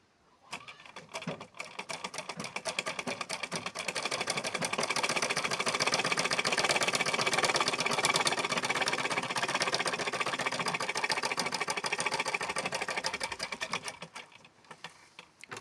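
Sewing machine stitching a blouse seam, a fast steady mechanical whir and patter that ramps up, runs continuously for several seconds close by, then slows and stops.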